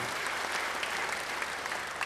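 Brief, fairly faint applause from a church congregation, a continuous wash of clapping lasting about two seconds with no voices over it.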